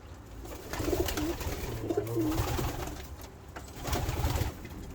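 A young male pigeon coos in soft, repeated throaty phrases at close range, with a second burst of cooing toward the end over a steady background hum, no talking.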